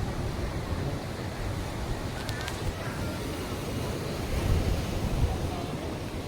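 Sea waves rolling onto Nagoa Beach in Diu, a continuous close roar of surf mixed with wind buffeting the microphone, swelling slightly toward the end.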